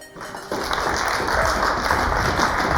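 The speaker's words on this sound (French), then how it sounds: "On va l'applaudir." An audience bursts into sustained applause for a fashion model on a runway, a dense wash of clapping that starts abruptly and carries on evenly at moderate loudness.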